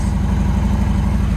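A 2020 Harley-Davidson Road Glide Special, bought wrecked, idles steadily just after starting, its low, lumpy V-twin pulse loud and close, with no talk over it.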